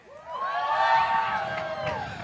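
Bassmaster Elite Series weigh-in crowd at the Harris Chain in Florida, a loud swell of cheering, whoops and shouting voices that rises and holds for about two seconds before easing slightly.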